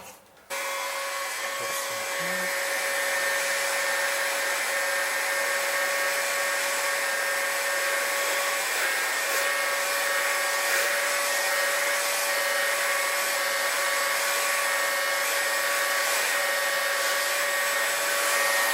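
A heat gun runs steadily and loud for the whole stretch, a constant blowing whine warming the rusty recoil housing of an old snowblower being restored.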